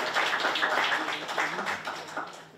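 Audience applause at a Breiðablik sports awards ceremony, with a dense, steady patter of many hands clapping through the whole moment, moderately loud and continuous with a slight dip near the end.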